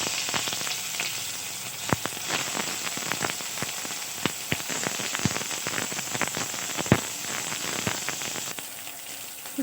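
Onion dropped into hot oil with cloves, cinnamon and whole cumin, crackling and spitting in a dense sizzle full of sharp pops, close and loud, with no one speaking.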